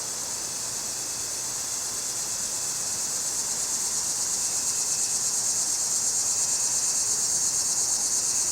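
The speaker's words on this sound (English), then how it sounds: "and the crickets." Crickets chirp steadily in a dense, high-pitched trill beside a tobacco plant in a garden, constant and fairly faint with no other sounds.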